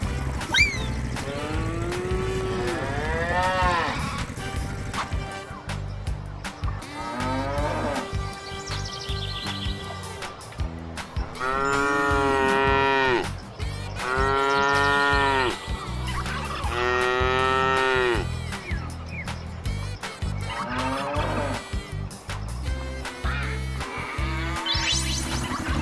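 Cow moos from a farm-animal sound lesson for toddlers, several long drawn-out calls repeating over the clip, loud and close, laid over steady background music.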